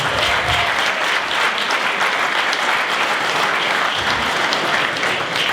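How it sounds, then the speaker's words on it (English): A gala audience gives a sustained round of applause, dense clapping from many people filling the room evenly from start to finish with no talk. "that's a round of applause"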